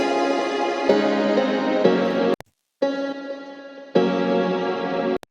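Strummed guitar chords ring out one after another, a sus4 chord settling into a plain one, with a short silent gap before the pattern repeats.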